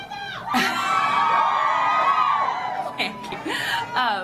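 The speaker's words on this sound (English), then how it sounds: "Cue the fake cheering." A fake crowd-cheering sound effect plays on a live online show, a loud, sustained burst of whooping and cheering voices that swells, holds, then breaks into scattered shouts.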